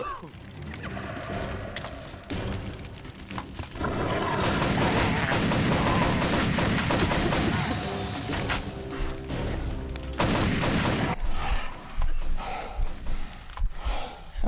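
Gunfire and explosive blasts from the hunting video game Cabela's Dangerous Hunts 2011, loud and dense through most of the stretch, with repeated sharp cracks over a busy background of game effects.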